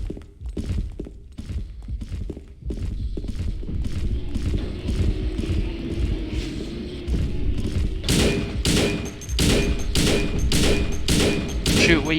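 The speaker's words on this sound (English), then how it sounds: "You'll see I empty a full magazine, reload, begin moving back, squeeze off what shots I can" Rapid gunfire from Silent Hill 2 as a full magazine is emptied, a dense stream of close, heavy shots with thuds underneath, growing sharper and more spaced near the end.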